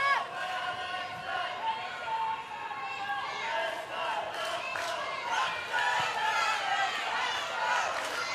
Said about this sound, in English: Crowd getting a little restless